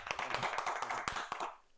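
A small group clapping to greet a guest on a podcast, with rapid, uneven claps close by that fade out over the last moments, and no talking.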